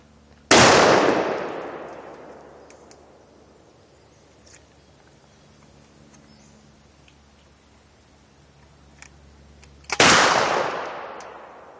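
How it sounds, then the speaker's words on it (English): A 28 gauge side-by-side shotgun fires #4 buckshot outdoors at targets, giving two loud, sharp blasts about nine seconds apart, each trailing off in a long echoing decay across open ground. "we're gonna try out the Buckshot now"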